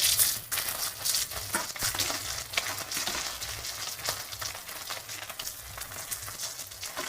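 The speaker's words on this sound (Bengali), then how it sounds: "তেলটা একটু গরম হয়ে গেছে এইবারে আমি সব ব্রোকলিগুলোকে ছেড়ে দেবো" Broccoli florets dropped into hot oil in a pan, a close crackling sizzle with sharp pops and spatters that is loudest at first and then settles into a lighter, steady fry with no talk.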